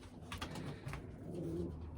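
Pigeons coo softly at a loft housing racing pigeons, low murmuring calls rising and falling over a steady background hum, fairly close and continuous.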